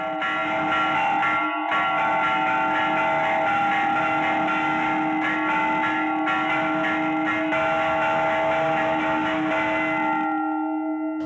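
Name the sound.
church bells ringing the Angelus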